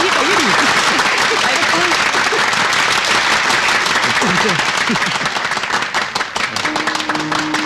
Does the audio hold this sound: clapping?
yes